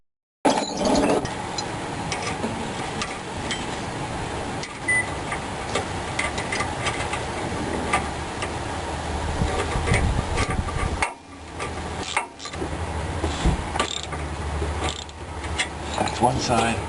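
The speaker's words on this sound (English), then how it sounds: "the next thing we have to tighten up the sleeve" Tightening the sleeve on a car's front suspension during reassembly, a continuous metallic ratcheting and clicking up close with brief pauses, no talking.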